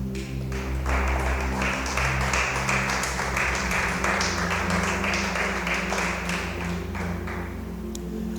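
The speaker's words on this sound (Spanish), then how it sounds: "Dale ese aplauso a Jesús." A church congregation applauds for Jesus during a sermon, a sustained, loud wash of clapping over steady held musical tones from an instrument.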